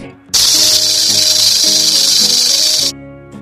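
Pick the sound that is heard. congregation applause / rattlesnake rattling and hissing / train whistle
rattlesnake rattling and hissing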